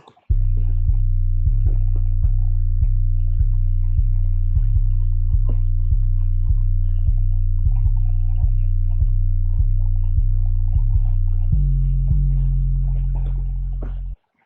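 A deep, distorted 808 bass pattern built in FL Studio follows the kick rhythm, booming in a steady pulse with a few extra notes, then holds a longer sustained note near the end before cutting off.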